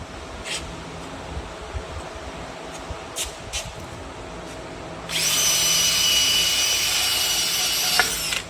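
A power grinder bites into flaky rust on the steering support of a 1978 Corvette, starting abruptly after a quiet stretch of small clicks and running as a loud, harsh, sustained whine for about three seconds.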